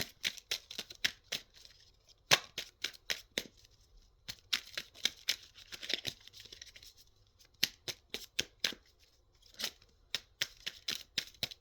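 Oracle cards are shuffled close up in quick bursts of sharp riffling snaps, with short pauses between flurries and no talking.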